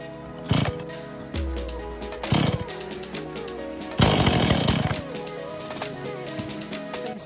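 A chainsaw cuts down trees at the edge of wetlands, running steadily with several louder bursts as the engine revs, the bar biting into wood, fairly close and continuous.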